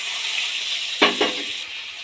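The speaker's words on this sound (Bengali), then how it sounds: "অল্প একটু জল দিয়ে কষিয়ে নেব" Ground ginger, cumin and dried red chilli paste hit a hot pan with a little water, giving a sudden sharp sizzle burst and a second smaller spurt over a steady background hiss, close and clear with no talk.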